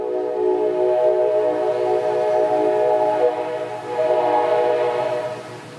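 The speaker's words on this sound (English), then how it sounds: "Another train. It's a busy train day." A passing train sounds its horn in a long, loud, sustained blast of layered tones, briefly dipping and then swelling again before tapering off, close by and dominating, with no talking.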